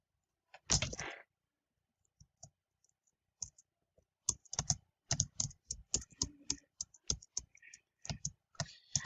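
Computer keyboard typing, close and clear: one burst of clatter, a pause with a few stray taps, then a run of irregular single keystrokes and quick clusters.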